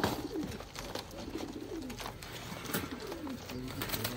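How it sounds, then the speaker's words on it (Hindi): Pet pigeons, a high-flying breed, coo softly and repeatedly in a loft, low murmuring calls overlapping at moderate distance under faint background noise. "ये परवाज के बादशाह कबूतर है"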